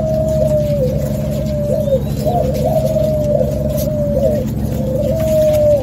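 Male spotted doves for sale in a bird shop coo in a repeated low, mellow phrase, the soft hooting notes rolling on steadily and close over a constant background hum.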